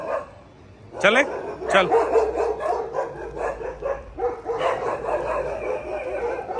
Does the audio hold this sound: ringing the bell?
no